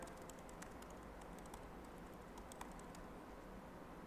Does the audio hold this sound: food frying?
no